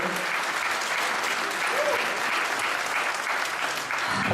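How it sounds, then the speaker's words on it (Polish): An audience at the Queen Lubelszczyzny 2011 beauty pageant gives dense, sustained applause for the second runner-up, a loud continuous wash of clapping from a large crowd. "Wielkie brawa dla drugiej wicepremier Lubelszczyzny 2011 Kariny Lubickiej."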